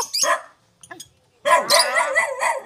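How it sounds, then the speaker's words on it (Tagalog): A dog gives several sharp, close barks in quick bursts with short gaps between them, alongside bird-like calls and chatter nearby. "Ang ingay ng aso."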